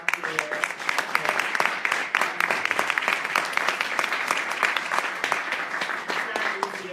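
An audience at a Native American youth prevention day event gives a sustained round of applause, dense, steady clapping filling the room for the whole stretch.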